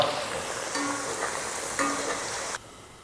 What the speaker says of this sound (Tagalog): Lutuin lang natin ito hanggang sa mag-start ng mag-brown yung patatas.